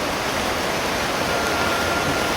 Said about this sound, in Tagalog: Lakas tra ba ng ulan tol?